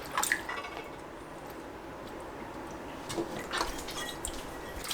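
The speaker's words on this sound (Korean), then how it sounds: "흐르는 물에 씻어주세요." Perilla leaves are rinsed under running tap water, a soft continuous splashing with a few brighter drips and clicks of handling, faint and close, no talk.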